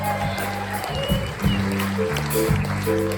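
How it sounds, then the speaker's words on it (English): An audience at a big band concert applauds the lead trumpet player, the clapping spread evenly under sustained brass and band tones that keep sounding throughout. "Another round of applause for Pasha"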